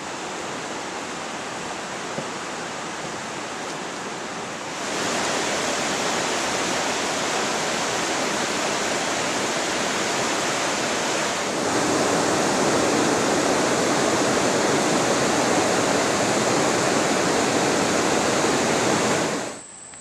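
The School River near Yorkin village rushes past in a loud, continuous, close-up roar of flowing water, growing fuller twice as it goes before cutting off abruptly at the end.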